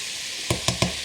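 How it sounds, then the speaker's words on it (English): Stir-fry vegetables steam and sizzle in a pan with a constant airy hiss, joined near the end by three quick knocking taps of a utensil against the pan. "The vegetables are steaming very nicely."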